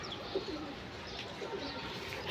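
Pigeons coo softly in a steady, low, rounded rhythm, with a constant background hush and no talking.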